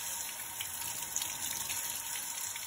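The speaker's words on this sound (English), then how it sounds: "you want to rinse off your hands while under clean water" Hands rinsing under a running tap during handwashing: a steady, close gush of clean water with splashing texture running continuously, no talking.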